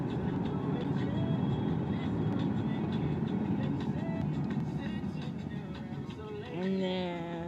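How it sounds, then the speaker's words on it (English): An Airbus A380 airliner passes during plane spotting, a broad steady roar of jet engine noise that holds for the whole stretch and swells slightly near the end as a tonal whine rises, with a voice talking over it. "there's the A380"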